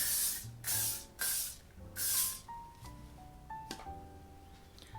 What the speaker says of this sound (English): I'm just gonna spray this side.